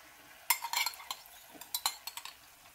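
A utensil scrapes and clinks against a pan while fish cakes with onion and seasoning sauce are stir-fried, giving a quick run of irregular metallic taps and scrapes, close and fairly quiet, with no talking.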